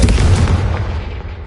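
A single loud, close explosion from the Confringo fire spell in Hogwarts Legacy, a heavy boom that rolls off and decays over about a second and a half.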